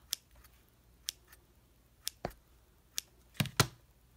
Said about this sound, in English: I'm just going to trim the edges off